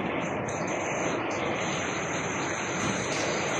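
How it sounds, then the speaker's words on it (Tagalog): Heavy rain falls on a flooded street at the corner of Dimasalang Road and Tiago St, making a dense, unbroken roar of water that fills the scene from start to finish. "Yan, umulan na naman."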